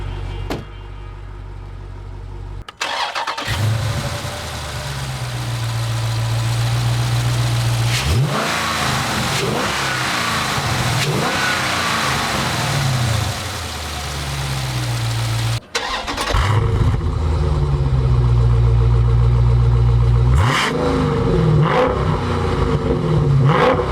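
A 2019 Dodge Challenger R/T Scat Pack Widebody's 6.4-liter 392 V8 starts with a burst, then revs in loud swelling pulls and settles to a burbling idle before a second start and heavy revving, close by and without talk.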